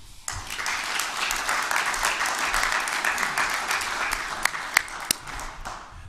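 Sustained applause from an audience at a mayor's press conference, many hands clapping steadily for several seconds, with a few sharper claps standing out near the end.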